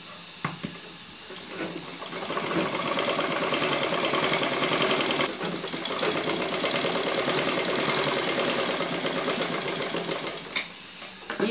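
A sewing machine runs steadily while stitching a folded seam on a saree blouse back neck piece, a continuous close mechanical whir lasting most of the stretch with brief pauses near the start and end.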